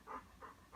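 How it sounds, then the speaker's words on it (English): A pet dog named Tucker pants softly nearby in three quick, faint, rhythmic breaths with no talking. "if you hear that panting noise"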